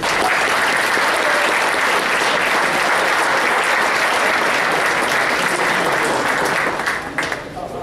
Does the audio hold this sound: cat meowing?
no